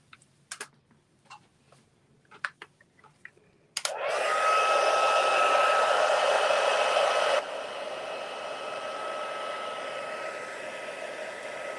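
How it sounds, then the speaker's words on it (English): Handheld craft heat tool blasts hot air over a Valentine craft project, starting abruptly after a few light taps and clicks, then holding a loud, steady whoosh that drops slightly in level partway through. "I'll just come in and use my heat tool again"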